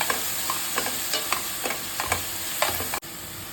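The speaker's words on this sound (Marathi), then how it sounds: "चिरलेला टोमॅटो टाकूया, चांगला परतून घेऊया।" Chopped onion and tomato sautéing in a pan for veg dum biryani, a constant sizzle broken by regular scraping stirs of a spoon, close and alone.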